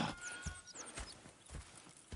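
Horses in Red Dead Redemption 2 clopping along with a steady, fairly close hoof rhythm, dull thuds repeating about every half second over a faint background bed.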